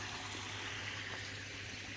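Filtered water flows back through a stream into a koi pond, a faint, steady, broad rushing and trickling with a low hum underneath, continuous and even throughout.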